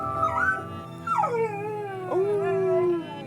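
Bobby, a pampered dog, lets out a continuous wavering howl mixed with whimpering cries, rising and falling in pitch and sliding into long drawn-out notes, close and fairly loud with no talking.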